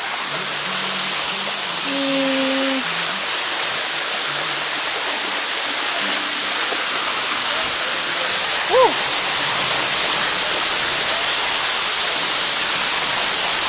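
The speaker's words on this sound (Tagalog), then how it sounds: "andito na tayo sa Payaran Falls" Payaran Falls, a waterfall in Montalban, Rizal, gives a loud, steady broadband rush of falling water filling the whole stretch, with faint voices and brief tonal sounds mixed in beneath it.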